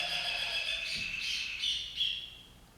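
Small birds chirp and tweet in a bright, high twittering chorus, several quick calls overlapping in the foreground and slowly fading toward the end.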